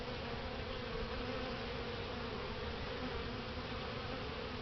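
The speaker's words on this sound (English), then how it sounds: "I like good-natured bees." Honey bees swarming around an open hive during an inspection, a dense continuous buzzing drone held close and even throughout, with no talking.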